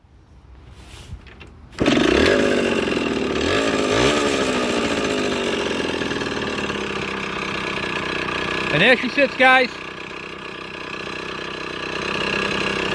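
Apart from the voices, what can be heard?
1980 Yamaha GT80 motorcycle engine running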